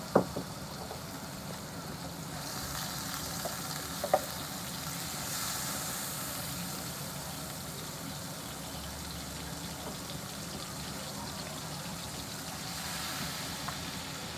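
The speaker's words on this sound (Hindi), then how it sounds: "1 मक्खन का टुकड़ा लेते हैं। 1 से 2 चम्मच हम इसमें ऑयल डाल देते हैं ताकि मक्खन जले नहीं।" A lump of butter with a spoonful or two of oil sizzles in a pan with a soft, steady hiss. A few light knocks of utensils on the pan sound near the start.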